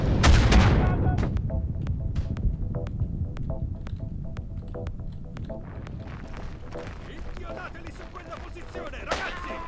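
Gunfire from a weapon in a slower-paced shooter video game: a loud burst at the start, then a string of sharp, evenly spaced shots fading over several seconds, with steady rumbling game noise underneath and a final louder crack near the end.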